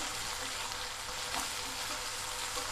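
Ginger and shallot paste fries in hot oil for pepper chicken, giving a dense, even sizzle that carries on steadily from start to finish with no talking.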